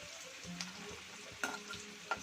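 Garlic sautéing in a pan for a thotakoora pappu tempering makes a soft, quiet sizzle with a few sharp spatula clicks as it is stirred.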